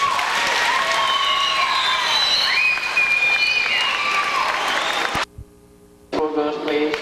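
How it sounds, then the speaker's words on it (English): A school event audience claps in steady, full applause for several seconds before it cuts off abruptly into near silence, then resumes with talk and sound. "let's give her a very energetic applause"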